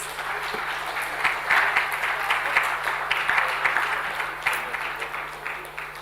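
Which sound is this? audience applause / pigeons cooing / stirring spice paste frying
audience applause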